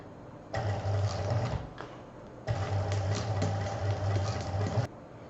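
Sewing machine stitching patchwork fabric for a rabbit project, running in two steady bursts of rapid mechanical whirring with a short pause between, close and fairly loud with no talking.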